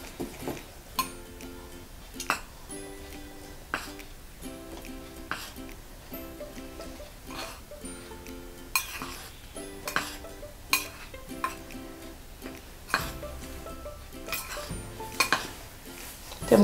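Flour, salt and baking powder mixed in a bowl for chocolate chip cookies, with repeated light scraping and clinking of a utensil against the bowl in an uneven rhythm, close and fairly quiet.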